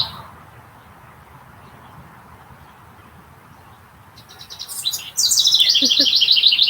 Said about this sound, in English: Sounds like that really loud bird is back.